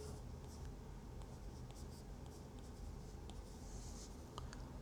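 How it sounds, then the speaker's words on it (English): Huawei stylus pencil writing on the screen of a MatePad Mini tablet in a notes app, giving soft continuous scratchy tapping strokes close to the mic over low steady background noise. "The pencil definitely feels good to write with."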